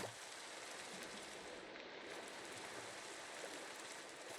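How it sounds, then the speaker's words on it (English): Steady rain falls in the Minecraft modpack Nomifactory, a dense, even wash of patter that holds at constant loudness for the whole stretch with no voices. "Why is the rain still going?"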